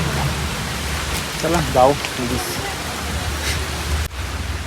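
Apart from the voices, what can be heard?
heavy rain near an old well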